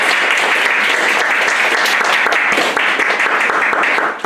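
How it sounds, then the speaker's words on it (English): Loud, sustained audience applause fills the room after a Suzuki piano graduation recital, dense steady clapping from many hands continuing without a break and tapering slightly at the end. "Have another round of applause for all those performers."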